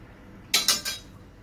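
A spoon beats a cold mixture in a bowl for kalakand, giving three quick, bright clinks close by, evenly spaced in under a second, then quiet.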